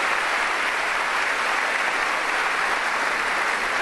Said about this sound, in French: Un fort applaudissement.